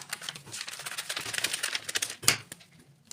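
Scissors cut through a bikini sewing pattern in rapid, close snips, a dense run of crisp clicks and rustles that eases off at the end.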